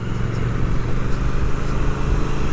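A Triumph Speed Twin motorcycle is being ridden, giving a steady, loud engine drone with rumbling low end and wind noise throughout, no voices.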